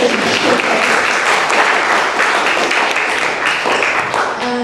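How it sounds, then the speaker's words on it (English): Book launch audience giving a loud, sustained round of applause, dense clapping close by that continues steadily without a break. "Big round of applause."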